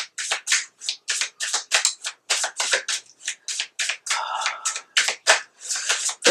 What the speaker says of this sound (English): Sorry, I have to shuffle until I feel it.